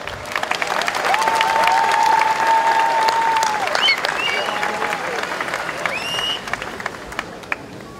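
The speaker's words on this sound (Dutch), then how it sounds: "Applaus." A crowd at an outdoor demonstration in Enschede against the Iraq war applauds, with steady clapping throughout, cheers and whistles rising over it, and voices audible underneath.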